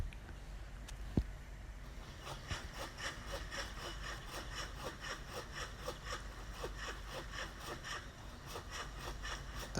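A hand saw rasps steadily back and forth through a hard dead tree branch, strokes even and rhythmic, fairly close and continuous throughout.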